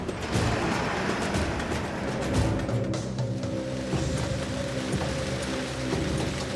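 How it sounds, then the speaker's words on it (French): Torrential rain drums steadily around a tar delivery truck on the road, a dense continuous hiss with a low engine hum running beneath it throughout. "Depuis des heures, Ajay roule sous une pluie torrentielle."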